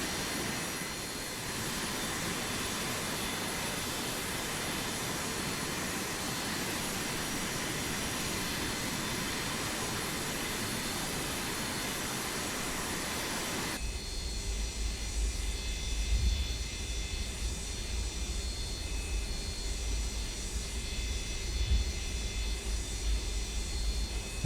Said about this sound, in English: I do like listening to this aircraft. It's got a nice sound to it.